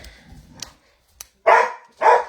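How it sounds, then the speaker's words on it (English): A dog indoors, harassing a guest, gives two loud, close barks after a few quiet rustles and a soft yip. "my dog is harassing my poor guest"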